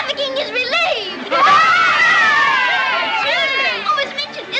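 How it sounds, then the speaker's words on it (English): A crowd bursts into loud cheering and excited shouting in a 1939 film scene. The roar swells suddenly, sustained with high screams and overlapping voices, then eases toward the end. "Do you hear the cheering?"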